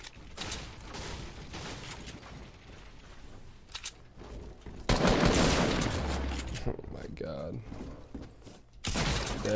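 Shotgun blasts in the battle game Fortnite, several loud bursts with impacts and mechanical clatter around five and nine seconds, with a voice talking over the action.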